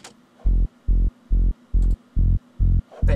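A tech trance sub-bass synth pulses in seven even, deep throbbing notes, loud and alone, with a faint synth pad and a brief bright tick between them.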